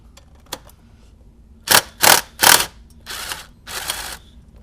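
A long ratchet extension works a 10mm bolt on a 2002-2006 MINI Cooper R50/R53 during an oil filter housing gasket job, giving a few sharp bursts of ratcheting clicks close by, with brief faint taps in between.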